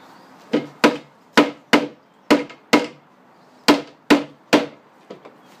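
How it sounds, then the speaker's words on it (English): A hammer bashes a socket set on a seized rear wiper spindle of a BMW E91 318 touring estate: about ten sharp, loud metallic whacks at close range, coming in an uneven rhythm with brief pauses between them. No one speaks. "If I put my socket on the top of that, turn it and bash it at the same time."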